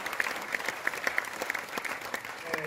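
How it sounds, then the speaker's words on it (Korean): Audience applause fills a hall at a memorial ceremony for Syngman Rhee, a steady crowd of claps sustained for under three seconds with faint voices beneath. "박수로서 응원해 주시면 고맙겠습니다"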